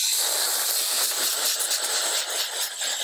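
A steady rush of water sprays a small screen during rinsing, a broad continuous hiss that stays loud and even throughout, with no voices over it.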